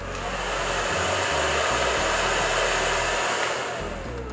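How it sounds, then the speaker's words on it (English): A hair dryer on its cool setting blows steadily and loudly right up close, drying gel laid down on hair, with a continuous airy roar and slight low-end fluctuations throughout. "I'm gonna get the blow dryer and blow dry that on cool."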